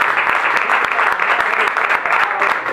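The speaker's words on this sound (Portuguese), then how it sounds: "Você pode aplaudir o Senhor?" Evangelical church congregation clapping loudly during a sermon, a short, dense burst of applause with faint voices underneath.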